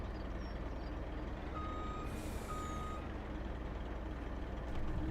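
Reversing beeps from a truck in Farming Simulator 25 during a cotton harvest, a steady repeating electronic tone over constant loud engine rumble, with no talk.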